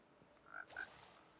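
A drowned zombie mob from Minecraft gives two short gurgling groans about a quarter second apart, faint and alone over quiet background.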